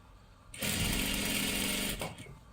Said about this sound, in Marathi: आता इथे सुद्धा आपल्याला अशा पद्धतीने घडी करून घ्यायची आहे आणि पूर्ण शिलाई करत करत आपल्याला घ्यायचं आहे